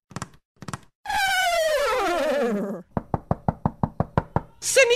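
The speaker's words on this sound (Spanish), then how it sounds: "¿No oyes que tocan?" Knocking on a house door in a Cinderella story: short knocks at first, then a sustained narrated tone, followed by a fast run of about nine sharp, close raps before a voice begins.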